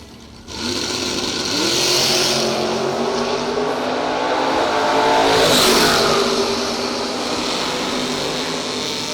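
Engine of a race golf cart accelerating hard at a drag-racing event, loud and sustained with a rising, revving tone and a brief surge midway, no talk.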